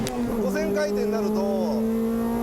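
A two-litre VTEC engine in a Honda Accord revs near 5000 rpm, holding a steady, loud drone whose pitch rises in waves under continuous talk.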